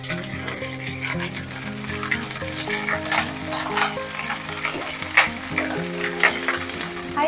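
Potato, chicken and cooked rice stirred together in a pan over a high flame, a loud steady sizzle with repeated scraping strokes of a spoon in an uneven rhythm.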